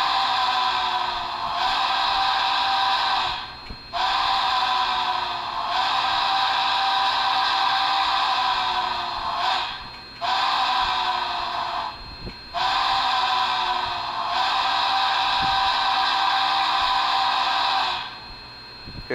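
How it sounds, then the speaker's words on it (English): Whistle from a Union Pacific Big Boy model steam locomotive with an ESU5 sound decoder, a loud sustained multi-tone blast broken into several long held notes with brief gaps, alone and close. "here's the whistle"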